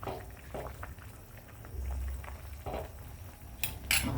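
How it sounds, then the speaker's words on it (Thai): Pot of fish curry with galangal and lemongrass boiling vigorously, giving a soft, continuous bubbling and popping at close range with faint clinks near the end. "เดือดคักๆเลยค่ะ เดือดคักๆเลย"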